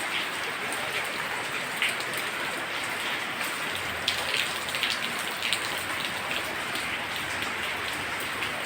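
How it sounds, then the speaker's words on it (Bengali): Heavy rain pours steadily outside the Jhula Devi temple in Ranikhet, Uttarakhand, a dense, even wash of drops drumming on surfaces nearby with no voices. "প্রচণ্ড বৃষ্টি পড়ছে, বৃষ্টির মধ্যে আমি দাঁড়িয়ে আছি।"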